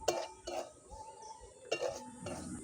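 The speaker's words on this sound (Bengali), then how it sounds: "সুজিটাকে এরকমভাবে হালকা আঁচে নেড়ে নেবেন।" Semolina being stirred and roasted in a pan over low heat: quiet scrapes and clinks of a spoon against the pan come in a few separate bursts, with faint background noise between them.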